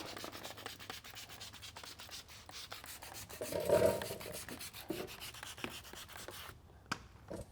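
A squeegee pushes paint protection film down onto a Tesla Cybertruck panel, giving faint, close rubbing and swishing strokes in a quiet room.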